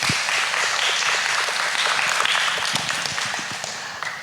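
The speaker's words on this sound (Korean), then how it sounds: "박수 한번 부탁드리겠습니다" An audience claps in a steady burst of applause at a student art competition event, a dense patter of many hands that tapers slightly toward the end.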